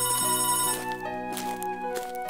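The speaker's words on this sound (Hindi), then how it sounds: "फोन बजने की आवाज आती है।" A telephone rings in a bedroom in a Hindi cartoon story, a bright electronic ringtone with sustained tones that shift in pitch, playing alone.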